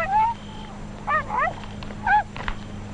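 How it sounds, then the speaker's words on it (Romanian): A dog barks and yelps in a short series of sharp, urgent calls, loud and close, in a 1968 Romanian film adaptation of Tom Sawyer, with brief pauses between the outbursts. "Dacă latră așa, Joe e pe aproape"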